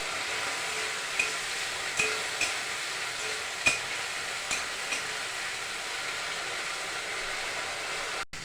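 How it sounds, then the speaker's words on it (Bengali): Ginger, cumin and chilli paste with turmeric cooks down in a pan with bitter gourd and potato, a continuous moderate sizzle broken by occasional sharp spatula scrapes and taps, with no talking. "ভালো করে কষিয়ে নেব।"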